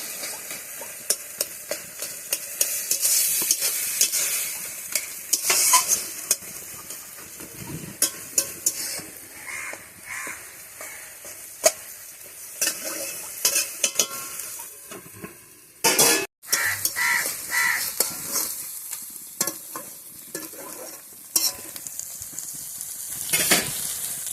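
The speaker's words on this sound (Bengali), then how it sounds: "এটা একদম শুকনো শুকনো ভাজা ভাজা হবে।" Food dry-frying in a pan, a steady close sizzle broken by frequent scraping and clattering stirs of a utensil against the metal, with one sharp clank partway through and no talking.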